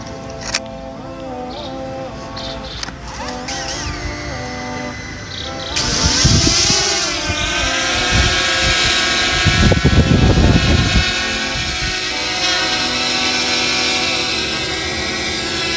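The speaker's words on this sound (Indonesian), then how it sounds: "Ya, sudah connection, drone siap kita terbangkan." A DJI Mavic Mini drone spins up and takes off at close range, a loud continuous buzzing whine whose pitch shifts and swells as it climbs and flies, with no talking over it.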